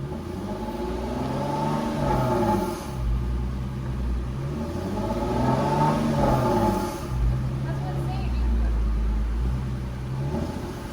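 An Infiniti Q50 fitted with test pipes idles with a deep rumble and is revved in several swells, the engine note climbing and falling while someone talks over it nearby.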